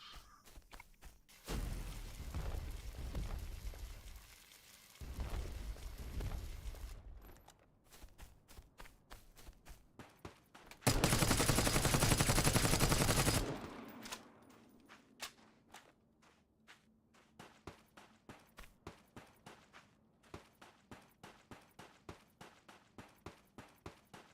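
Video game gunfire from an Apex-style weapon, with bursts of automatic fire and a sustained loud volley, followed by a long run of evenly spaced sharp shots and footsteps, moderately distant.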